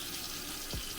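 Water running onto a curly wig as the hair is wetted, a faint steady wash with one brief louder splash near the end.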